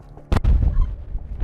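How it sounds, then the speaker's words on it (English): Detonation of five anti-tank mines by an ordnance disposal team in Azerbaijan: one sharp, loud blast followed by a deep rolling rumble that lingers, heard from a distance. "here's the explosion. 5 anti-tank mines being exploded by the enemy ordnance disposal team here in Azerbaijan"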